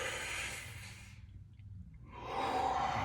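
Slow, deliberate breaths during a hip stretch: a soft exhale fading into a brief quiet pause, then a stronger, close breath rising near the end, with no talking.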